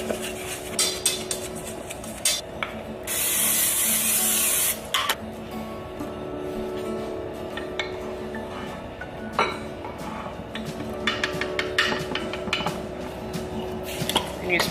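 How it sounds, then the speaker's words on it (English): A brief hissing burst of cooking oil spray from an aerosol can onto a baking dish, a couple of seconds long, amid clinks and kitchen clatter. "And you spray the top with oil as well."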